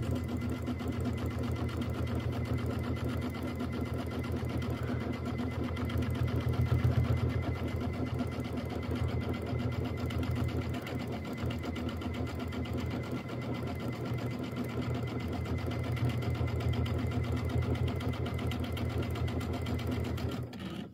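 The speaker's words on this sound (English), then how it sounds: "Now we're going to stitch in the ditch all the way across." A sewing machine stitches in the ditch along a quilt binding, a continuous fast, even motor hum and needle patter running for the whole stretch at a steady close level.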